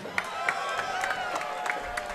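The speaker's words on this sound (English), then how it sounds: "Crowd here for Joseph Borman." Arena crowd noise from spectators at a Hardrock MMA event greeting lightweight fighter Joseph Borman, a steady roar with scattered shouts and claps running the whole time, with an announcer's voice faintly mixed in.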